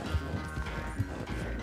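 A horse galloping in the video game Red Dead Redemption 2, with steady rapid hoof clatter under dense game music and ambience.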